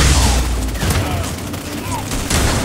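Battle in the mobile strategy game C&C Rivals: rapid bursts of gunfire and booming explosions pile up in a dense, loud barrage, with game voice announcements mixed in.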